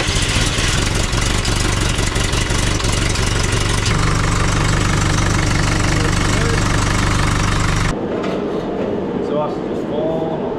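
An old machine's engine, started with the key, runs and idles loudly with a steady rough drone for about eight seconds, then stops, leaving quieter background noise.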